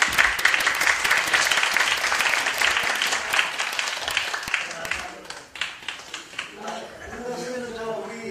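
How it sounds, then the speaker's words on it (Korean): An audience claps for a visiting lecturer after a church lecture, starting as a full dense round of applause that thins out toward the end into scattered individual claps as voices begin to speak. "질문 없으면 우리 박사님 박수로"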